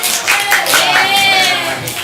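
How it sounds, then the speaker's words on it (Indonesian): Students in a classroom applauding a classmate, a short burst of clapping from a small group mixed with bright ringing tones and faint voices. "tepuk tangan untuk Wani ya"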